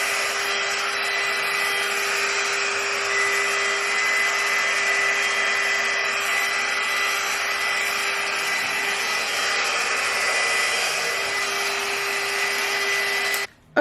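A GHD Duet 2-in-1 hot air styler blows steadily on wet kinky 4C hair with a constant whooshing hiss and a thin high whine, cutting off abruptly at the end.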